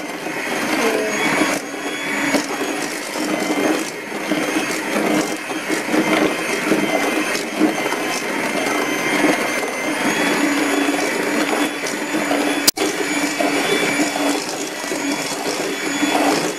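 A mixing machine churns dough for a kacang disco peanut coating with a steady, dense whirring and rumbling, constant and fairly loud, plus one sharp click near the end; no voices.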